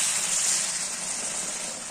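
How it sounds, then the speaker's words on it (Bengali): Hot water poured into mutton frying in a pan, a steady loud hissing gush with no speech. "গরম পানি দিই আর কষাই।"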